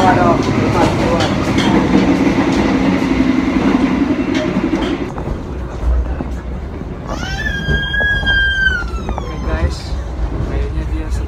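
Steady rumble and rattle of a moving train in an executive-class carriage, continuous and close throughout, with a rising high-pitched squeal or whistle near the end.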